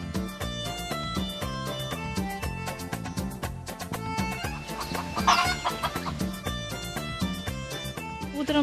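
Black and white Brahma chickens cluck steadily in a dense, continuous chorus, moderately loud and close, with no talking.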